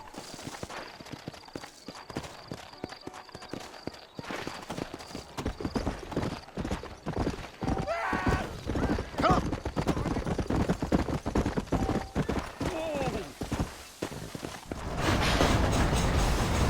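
Horse galloping in Red Dead Redemption, a steady rapid clip-clop of hooves running through the whole stretch, fairly loud and close, with a game character's voice speaking over parts of it.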